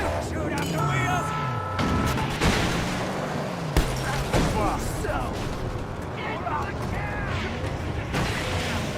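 Gunfire in the Mad Max video game, shots aimed at a car's wheels, dense bursts and booms layered over roaring vehicles and chaotic action, loud and close, with a voice shouting over it.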